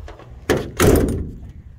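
A door on a 2018 14-foot Interstate LoadRunner camper toy hauler swings shut, giving a soft knock followed by a heavier, close thunk as it latches, with no talking.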